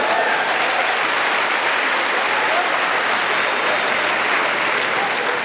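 A church congregation applauds during a service, a sustained, dense roar of many hands clapping at once, loud and unbroken for several seconds.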